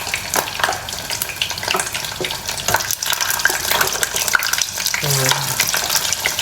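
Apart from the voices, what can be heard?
small sausages sizzling as they are heated in a pan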